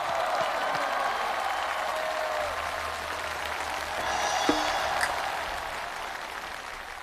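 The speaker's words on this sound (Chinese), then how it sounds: "感谢您各位的掌声鼓励" An audience applauds a crosstalk comedy show on a Tianjin stage, a steady, fairly faint wash of clapping that holds for several seconds with no voices over it.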